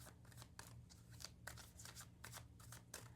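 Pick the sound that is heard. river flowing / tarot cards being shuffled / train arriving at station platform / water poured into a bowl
tarot cards being shuffled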